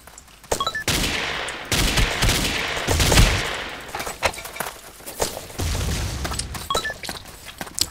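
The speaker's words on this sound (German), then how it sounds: "Blöde Kackgranaten." Grenade explosions and gunfire in the blocky shooter game Ace of Spades, with loud booms and sustained crackling bursts overlapping for several seconds, followed by scattered sharp shots.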